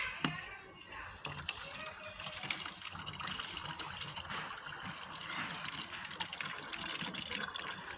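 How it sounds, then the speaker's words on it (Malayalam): Water trickles and gushes out of a small hole in a plastic bottle during a simple home experiment, a thin continuous liquid stream running for several seconds, fairly faint and close, with light handling noises. "തുറക്കുമ്പോൾ ഇതിൽ നിന്ന് വെള്ളം പോകുന്നുണ്ട്."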